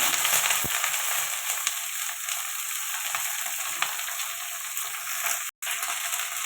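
Strips of bitter gourd and potato sauté in hot oil tempered with bay leaf and five-spice, giving a constant hissing sizzle with a few faint clicks.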